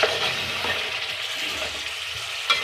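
Masala for chicken biryani frying in a pot, a soft steady sizzle with faint stirring scrapes and a small clatter near the end, fairly quiet throughout.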